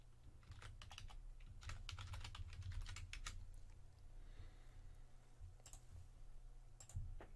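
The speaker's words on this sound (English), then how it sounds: "I'm going to type in my username that I'm going to use to connect." Steady rapid typing on a computer keyboard, close and fairly quiet, with bursts of clicking keystrokes and short pauses between runs.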